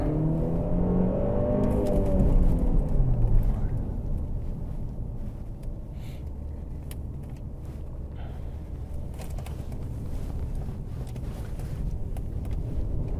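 A car on a test drive during an inspection: a loud engine rises in pitch as it accelerates early on, then settles into a steady rumble of engine and road noise mixed with wind buffeting, with no talking.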